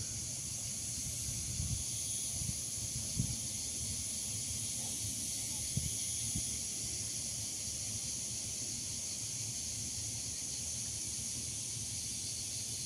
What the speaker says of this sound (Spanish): Cómo se escucha la chicharra